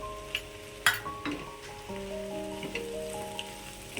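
Grape and potato fasting bhaji with peanut powder is sautéed in a pan, a quiet sizzle with a couple of sharp utensil scrapes and taps and faint stirring throughout.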